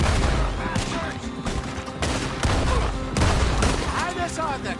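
Rapid gunfire from a Red Dead Redemption 2 shootout, with dense overlapping bursts and booms firing continuously and loudly for the whole stretch, mixed with voices shouting in the game.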